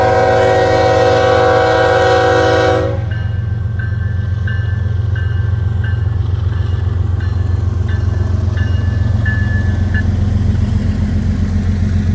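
Three diesel locomotives pass close and loud. A long, blaring horn opens the clip, then gives way to a heavy, steady rumble of engines and wheels with a faint repeating ringing tone.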